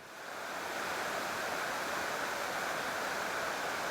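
Water gushes up and cascades down a mountainside waterfall on a winter seashore on Ulleungdo, Korea, a steady, loud, broadband roar that swells in over the first half second and then holds constant with no voices.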